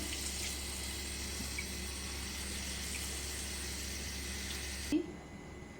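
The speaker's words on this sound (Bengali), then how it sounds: "ঝুড়িতে আমি ধুয়ে নিয়েছি এবার তার মধ্যে জল দিয়ে দিলাম" Water pours steadily into a basket of washed banana flower in a home kitchen, a continuous close rushing stream lasting about five seconds before cutting off abruptly, leaving a quieter background.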